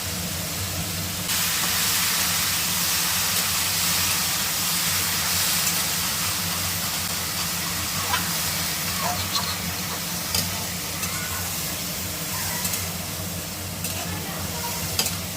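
Ridge gourd and potato pieces sizzle and fry steadily in a pan with onion, salt and turmeric, with scraping stirring noises throughout; a continuous close hiss with no voice.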